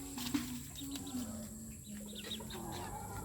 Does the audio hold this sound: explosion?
no